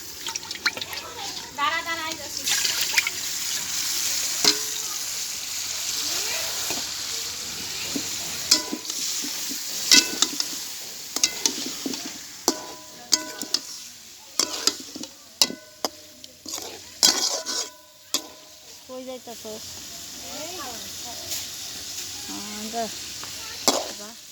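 Fish fries in a pan on an outdoor clay stove, a continuous sizzle broken by sharp clatters and stirring knocks, with people talking at times over it.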